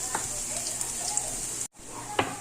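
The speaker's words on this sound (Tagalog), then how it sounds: "since mainit na yung ating kawali, ilalagay na natin yung ating sibuyas na puti." White onion dropped into an oiled, already hot frying pan for fried rice, giving a steady close hiss and crackle that runs throughout, briefly cut off near the end before resuming with a soft scrape.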